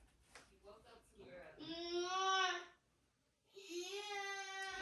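A young grandson's voice comes through in two drawn-out, whiny, sing-song vocal bursts separated by a short pause, fairly close and clear.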